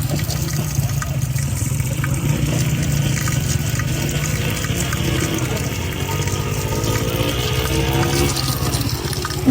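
Cold water runs steadily from a tap in Muzaffarabad, a continuous gushing splash with no pauses and no talking.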